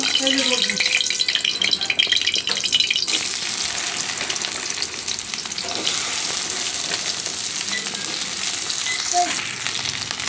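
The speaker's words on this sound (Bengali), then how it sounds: "এখন তেলটা একটু গরম হয়ে আসলেই ভেন্ডি ভাজাটা তুলে দিব।" Okra frying in hot oil in a wok, a steady dense sizzle running throughout, loud and close, with brief bursts of stirring and spattering layered on top.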